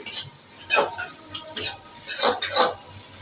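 A spoon stirs an egg and flour snack mixture in a pan just after sauce is added, giving several close scraping strokes in an uneven rhythm with soft pauses between them.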